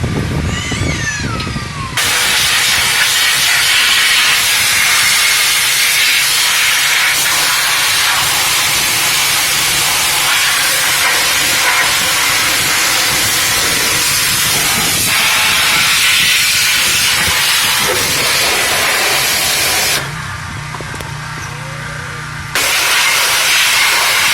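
A pressure washer rinses degreaser off a truck engine bay, producing a loud, continuous close-up spray hiss. The hiss breaks briefly near the start and again for a couple of seconds near the end.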